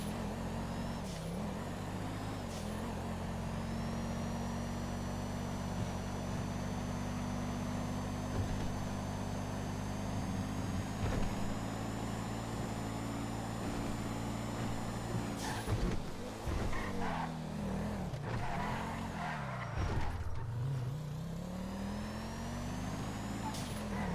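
A car engine drones steadily in a video game, a sustained hum with pitch slowly rising and then swooping up and down as the car accelerates and turns, fairly faint and without talk.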